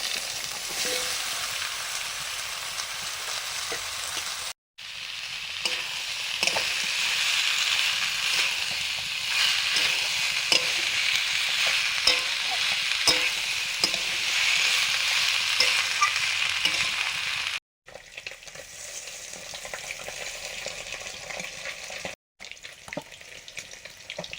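Pumpkin sizzling and frying in a pan while being stirred, a dense, steady hiss of hot oil with scraping stir strokes, broken by a couple of brief cuts and quieter frying near the end.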